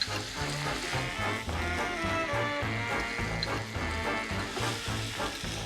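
Vegetables and corn sautéing in a pot for a quinoa stew, a steady sizzle with rhythmic low scraping and stirring strokes throughout, close and moderately loud with no talking.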